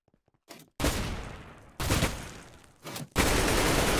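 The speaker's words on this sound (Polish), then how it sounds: "Nie trafiłem tym pierwszym strzałem i zwaliłem." Several gunshots ring out in Minecraft's Counter Strike mode: a few faint clicks, then four loud sharp bursts spaced about a second apart, each trailing into a rough decaying roar, with no voices.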